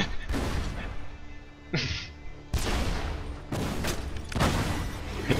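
Rocket launcher shots in Borderlands 2 as several sharp blasts with trailing rumble, separated by short gaps and one brief rising whistle, loud and close.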